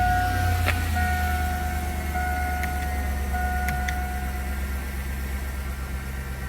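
A 2002 Chevrolet Suburban engine idles steadily after starting, a low continuous rumble close by with a few faint chimes or tones above it and no talk.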